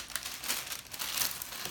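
Wax paper pinned inside a t-shirt crinkles as it is handled, in short, close, papery bursts of rustling that come and go.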